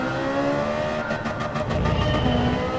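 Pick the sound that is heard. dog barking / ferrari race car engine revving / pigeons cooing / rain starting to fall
ferrari race car engine revving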